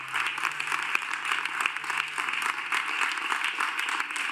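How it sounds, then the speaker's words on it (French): Applause from a seated group in a political meeting hall, a steady wash of clapping throughout at moderate level, with no speech over it. "les autres applaudissent comme des otaries"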